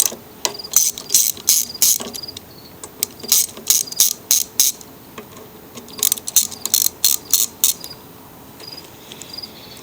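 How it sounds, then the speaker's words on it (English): A ratchet wrench on a Craftsman mower engine backs out the two 1/4-inch bolts holding the ignition coil: close, crisp bursts of rapid clicking in several separate runs, with short pauses between them. "To remove the coil, 2 bolts, 1/4 inch."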